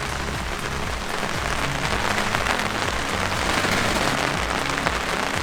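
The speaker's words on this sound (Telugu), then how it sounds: "వర్షం అయితే ఫుల్ పడుతుంది." Heavy rain pours steadily onto surfaces outside a garage, a dense, loud, continuous hiss and patter with no talking.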